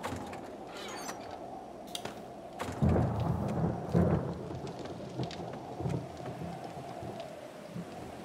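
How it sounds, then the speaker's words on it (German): Thunderstorm and steady rain in the survival video game 7 Days to Die, with a continuous rain hiss and a couple of deeper thunder rumbles rolling in near the middle, no talking. "Wieso gewittert denn das schon wieder?"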